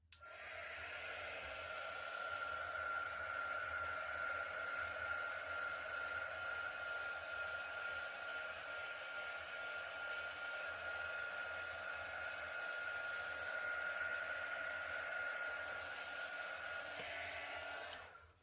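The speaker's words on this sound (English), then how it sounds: "Now I'm going to hit this with a heat gun" A heat gun blows on poured acrylic paint containing silicone, a steady, fairly quiet whooshing airflow with a constant whine that runs unbroken for around seventeen seconds before stopping.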